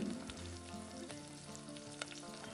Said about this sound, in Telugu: ఇలా మంచి కలర్ వచ్చేంత వరకు ఫ్రై చేసుకుని